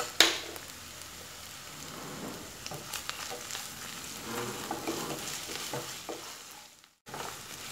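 A spatula stirs ingredients with ginger-garlic paste and salt frying in a pan for egg rice, producing a dense crackling sizzle like rain with faint scraping, close up and briefly cutting out near the end.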